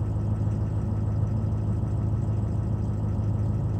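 A diesel engine with a high-pressure oil leak idles steadily after a cold start, a loud, continuous low rumble with an even pulsing rhythm and no talk.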